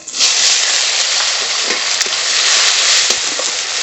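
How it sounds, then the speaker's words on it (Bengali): Loud, steady sizzling as chopped tomato goes into lightly fried onion with whole cumin and bay leaf in a hot pan, a dense continuous hiss with faint stirring scrapes, close up and with no voices. "পেঁয়াজটা হালকা করে ভেজে নিয়েছি এবার টমেটো কুচি দেবো"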